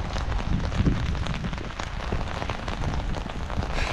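Steady heavy rain patters and hisses close around someone out walking, a dense continuous wash of drops on surfaces with no voices.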